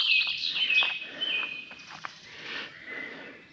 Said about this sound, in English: Let's just listen to the bird life for a minute.